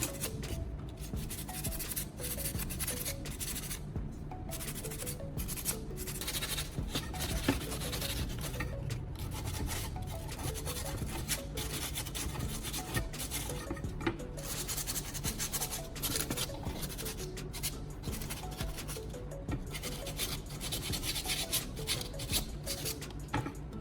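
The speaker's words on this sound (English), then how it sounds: "Now, I'm taking sandpaper once again and giving the scissors a thorough scrub." Sandpaper scrubs rusty metal scissors in a steady, continuous rasping rub that runs close and unbroken for the whole stretch.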